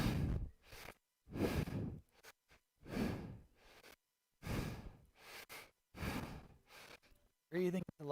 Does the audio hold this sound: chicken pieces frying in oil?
no